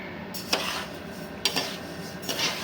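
Soy and ragi being dry roasted in a pan, a faint scraping and rattling stir with a few sharper metallic scrapes of the utensil against the pan, no talking.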